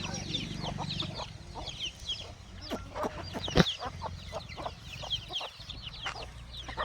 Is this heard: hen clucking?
yes